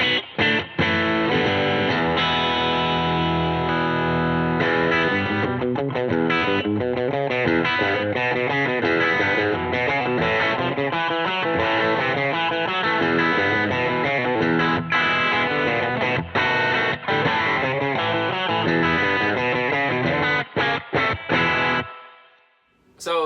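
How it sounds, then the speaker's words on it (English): Electric guitar played through a spring reverb patch on an Empress Reverb pedal, with dense strummed chords and a splashy, drenched tail that rings on continuously for about twenty seconds before fading out, with no talk. "So that's my spring reverb patch, the best one that I could dial up on the Empress Reverb."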